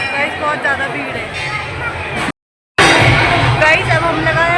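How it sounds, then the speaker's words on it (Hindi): Dense crowd of pilgrims at a Kali temple, a continuous hubbub of many voices with scattered shouts, briefly cut to silence midway before resuming loud and close. "बहुत ज़्यादा भीड़ है"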